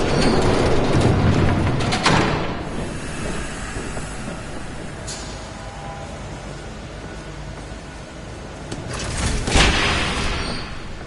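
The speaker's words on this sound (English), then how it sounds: "There's a train coming." A train rushes past in Batman: The Telltale Series, a loud roaring bluster with sharp bursts near the start and end and a sustained noisy rumble in between, no speech.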